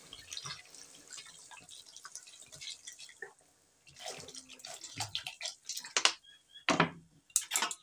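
Water splashing and trickling into a cooking pot of Bengali egg curry, a close pouring burst with drips and clinks, broken by a short pause midway.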